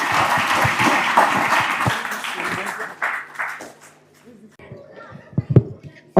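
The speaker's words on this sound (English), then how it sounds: "Can we kindly clap for her so that she can address us?" Applause from a school audience at a career day, moderately loud and dense for a few seconds, then thinning out into scattered claps with a little talk as it fades.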